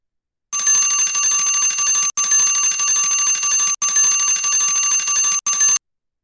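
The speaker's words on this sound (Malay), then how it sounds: "masa loceng pun dah bunyi" A bright electric bell rings loud and close to signal that time is up, sounding in four sustained bursts with short gaps, the last one brief.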